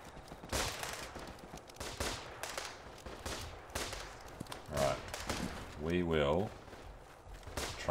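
Gunfire in the trench warfare game Running in the Trenches, with scattered sharp shots and bursts at varying distance and voices talking between and over them.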